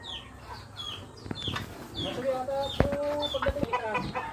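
Chickens clucking nearby on a backyard farm in the provinces beside a piggery, with scattered bursts and short calls, some louder clucks close up.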